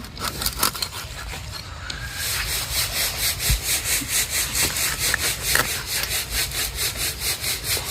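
Small fish being cut and cleaned, a blade drawn back and forth in a steady rapid sawing rhythm of repeated scraping strokes, close and fairly loud, with no talk.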